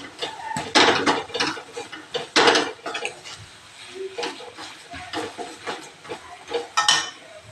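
A spoon stirring ghee into a bottle gourd laddu mixture in a pan, with continuous scraping and rubbing and irregular louder strokes close by. No voices are heard.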